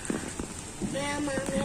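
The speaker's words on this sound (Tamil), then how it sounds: "மழை வேற வந்துட்டு இருக்கு" Rain falling steadily outdoors, a soft constant patter with a few louder drops and faint voices in the background.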